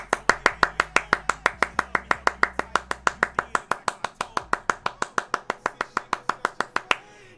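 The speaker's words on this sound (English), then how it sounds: "Round of applause for Sushi in chat." Steady, rapid clapping from one person close by, about thirty sharp even claps over several seconds, ending abruptly.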